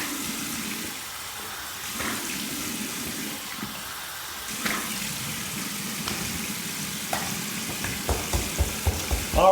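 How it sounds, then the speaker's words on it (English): Water splashed onto a face after a shave with a Rockwell 6S adjustable razor, a cold rinse: steady running and sloshing water throughout, with a quick run of sharper splashes near the end, and no talking. "so you're not bored just hearing me splash over and over and over again."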